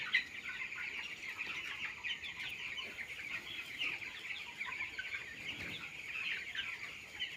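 Young poultry-farm chickens, sixteen days old, cluck and cheep continuously together inside a shed. The dense chatter of many birds is fairly faint and even, with no talking.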